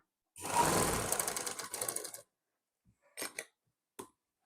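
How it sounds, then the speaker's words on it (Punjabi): A sewing machine stitches the slit of a lined kurti in one close burst of rapid needle chatter lasting about two seconds, followed by a few short quick stitching spurts between silences. "ਫਿਰ ਆਪਾਂ ਇਹਦੇ ਉੱਪਰ ਇੱਕ ਸਲਾਈ ਲਗਾ ਲਵਾਂਗੇ ਕੱਚੀ"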